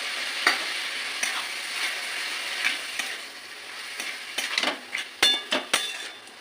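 Banana flower and prawns being stir-fried in a pan, with a soft, steady sizzle and spatula strokes scraping and clinking against the metal, growing busier toward the end, close with no talking.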